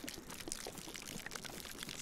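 Water poured out of a bottle in the video game DayZ, a faint, steady trickling splash lasting about two seconds.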